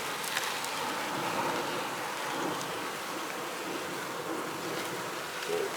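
Steady buzzing of many honey bees from an opened hive in a bee yard during varroa mite treatment, a dense continuous drone close by with no talking.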